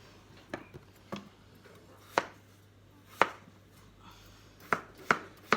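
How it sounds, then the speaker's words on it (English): A knife chops raw potatoes on a board, about nine crisp, separate strikes landing at an uneven pace with quiet pauses between them, close and clear with no talking. "Because these aren't cooked, I am cutting them a bit smaller"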